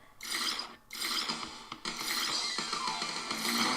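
A dense, busy clatter of rattling and clicking noises from crabs in the video game Grandia II Anniversary Edition, fairly loud and continuous, with a short break before it picks back up.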